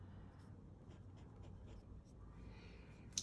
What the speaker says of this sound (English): So this is Monteverde Ritma stroke.